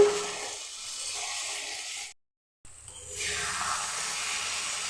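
Diced potato frying in spice masala for a Bengali chickpea curry, a steady close sizzle with faint stirring, broken by a brief silent gap before the sizzle returns louder.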